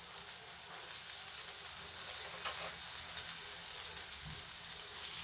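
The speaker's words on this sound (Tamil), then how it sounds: "கொஞ்சம் கிளறி விடுவோம்." Onions and curry leaves fry in oil for a squid curry, making a faint, even, rain-like sizzle with a few soft stirring movements.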